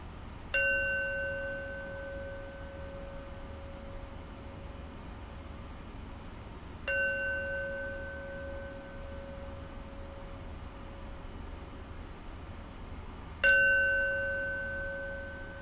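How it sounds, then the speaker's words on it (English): A meditation bell is struck three times, about six seconds apart, each clear ringing tone fading slowly into near silence before the next strike. "we'll end our practice with 3 rings of the bell"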